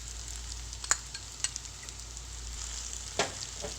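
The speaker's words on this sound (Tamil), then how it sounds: "இந்த ஸ்டேஜில் நம்ம எடுத்து வச்சுருக்கிற இஞ்சி பூண்டு பேஸ்ட் போட்டுக்கலாம்" Ginger garlic paste sizzles with softened onions in oil for channa masala, a low steady crackle punctuated by three or four quick spoon clicks against the pan, with no speech.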